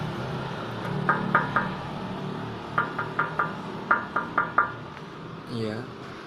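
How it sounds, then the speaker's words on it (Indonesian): Knocks on the metal heat shield of an original Honda Tiger Revo motorcycle exhaust: about a dozen sharp, ringing metallic taps in quick clusters, close and clear, with a brief voice near the end. "kalau diketuk bunyinya gini guys."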